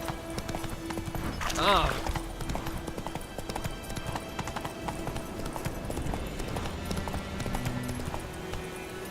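Geralt's horse Roach clip-clops along in The Witcher 3 video game, the steady hoofbeats running throughout while a man's brief exclamation rises over them.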